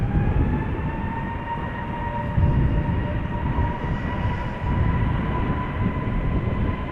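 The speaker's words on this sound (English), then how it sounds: "JetBlue A321neo already going." A JetBlue Airbus A321neo takes off at Amsterdam Schiphol Airport, a loud sustained engine roar carrying steady droning tones throughout, with no talking.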